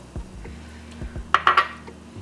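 Ingredients, including activated yeast, go into a mixing bowl for Pan de Muerto sweet bread. Soft low knocks come first, then three bright clinks of utensil against bowl close together near the end.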